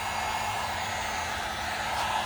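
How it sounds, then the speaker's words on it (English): Continuous steady whoosh of a heat gun blowing air on a low setting, constant and fairly loud with a faint motor hum. "So we have our heat gun. We have a couple settings on it. We're on the low setting."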